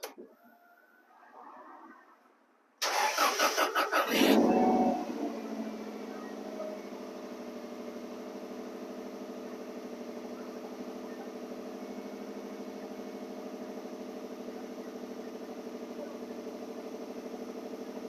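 An engine cranks and catches with a loud burst, then settles into a steady, droning idle that runs on for the rest of the clip.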